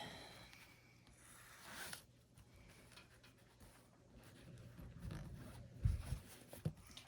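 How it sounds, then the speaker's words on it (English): A zipper on a sewn fabric backpack is eased open a short way, giving a faint rubbing, ticking rasp close by, with a few louder brief clicks near the end and no talk. "just opening the zipper a little bit so I can get that part flat as well."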